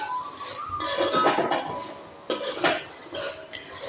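Idli masala being stirred in a pan, a spoon clinking and scraping against the metal in uneven bursts over a soft background, close and moderately loud.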